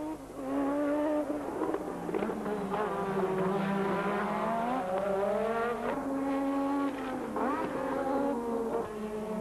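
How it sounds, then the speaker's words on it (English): Formula 1 cars of the 1986 Grand Prix season scream past together, a high, rising and falling engine whine that swells and shifts pitch as the cars pass, loud and unbroken. "As the two of them came up to lap Brundle's Tyrrell, Mansell went past into top spot."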